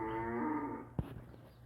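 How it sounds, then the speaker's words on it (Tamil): A dairy cow on a farm gives a single deep, drawn-out moo that fades into a short thump, heard close with no talking. "தரமான மாடு, நல்ல மாடு."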